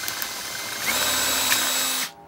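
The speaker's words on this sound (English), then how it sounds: "Let's keep going with our step drill." A cordless drill spins a step drill bit through material for concrete loudspeakers, a close, loud whine that rises in intensity partway and cuts off sharply just before the end, with no talk.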